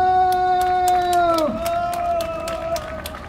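Crowd cheering and clapping at an outdoor Korean cultural arts festival with a ritual ceremony, brief and lively, over a sustained tonal note that slides down partway through.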